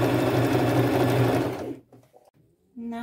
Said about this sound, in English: I'm sewing the sides together.